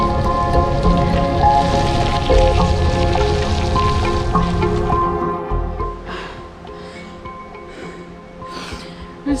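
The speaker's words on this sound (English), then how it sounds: "The rain isn't even bothering me" Steady rain falls close by on a cycling and walking route from Land's End to John o' Groats, a dense hiss that eases a little midway and then continues with scattered patters and drips, with no talking.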